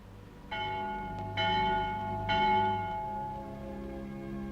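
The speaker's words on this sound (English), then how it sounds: "The Vespers bell." A church bell rings for vespers, three resonant strikes spaced about a second apart, each leaving a long humming decay that overlaps the next, heard clearly with no talking.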